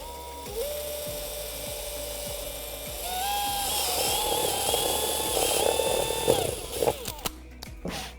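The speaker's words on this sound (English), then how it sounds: "Drill out the hole." A power drill running a uni (step) bit cuts through the plastic battery cover of a 2015-2020 Mustang, whining steadily at close range and rising in pitch as it bites, ending in short bursts.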